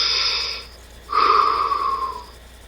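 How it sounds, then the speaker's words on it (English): Deep breathing, a long wheezy inhale followed by a fuller, louder exhale, close and alone with no talk over it. "I'm practicing deep breathing"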